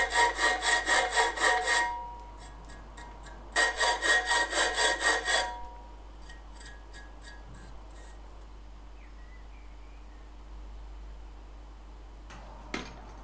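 Metal file rasping across bicycle brake mounts on a comp trials bike frame, in two loud bursts of rapid rhythmic back-and-forth strokes, each lasting about two seconds, separated by a quiet pause, followed by faint handling clicks.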